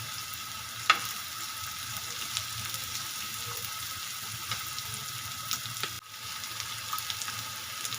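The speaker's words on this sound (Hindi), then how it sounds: "फिर प्याज ब्राउन करेंगे" Onions frying in oil in a pan, a faint, even hiss of sizzling that runs throughout with a few small clicks, quiet and steady with no voices.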